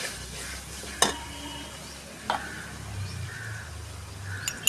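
Onion and tomato fry in a pan for chicken masala with a soft, quiet sizzle and a couple of light spatula knocks against the pan.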